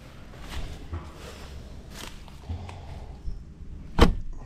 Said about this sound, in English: Let's just close this door up here.